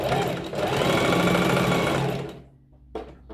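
Sewing machine stitching a quarter-inch seam on cushion cover fabric, a fast, dense mechanical whirr running loud and steady for about two seconds, then stopping, followed by a brief click.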